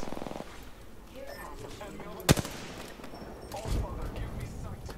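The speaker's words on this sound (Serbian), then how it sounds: "Pa pucanje tamo s druge strane." Gunfire in the Apex Legends battle royale game: one sharp, loud shot crack stands out midway, with fainter bursts of firing before and after, under the steady talk of players.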